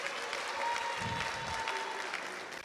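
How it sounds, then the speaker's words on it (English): Crowd clapping and cheering at a town hall meeting in Bolgatanga with Nana Kwame Bediako, loud and sustained for under three seconds with no voice standing out above it. "But you should clap for someone like that."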